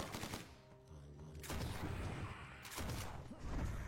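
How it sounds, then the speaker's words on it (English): Enemy machine guns fire in a video game in rapid bursts, loud and close, separated by short pauses, with faint voices underneath at times. "It's mostly the machine gunners that are a problem."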